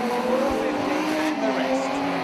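A banger race car grinds around the Arena Essex oval on a lap, its engine droning loudly and steadily nearby with a brief tire scrub, under a commentator's voice.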